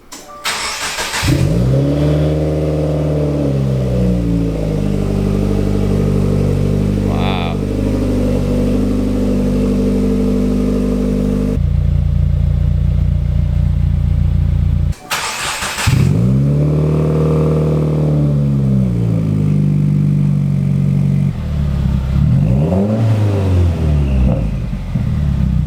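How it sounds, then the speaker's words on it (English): A 2017 Subaru WRX fitted with an Invidia N1 catback dual exhaust starts up and revs loudly, with repeated sweeping throttle blips, a brief drop in sound midway, then more revving close by with no talking. "Now we're gonna start the car, listen for leaks in each spot that we connected"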